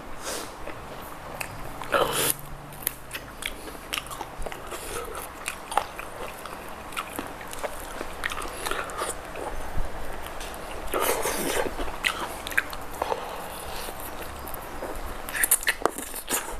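Bites into crispy, freshly fried Thai fish-sauce chicken, close crunches and chewing repeated at irregular intervals, with a few sharper crackly bites and occasional sniffs and murmurs.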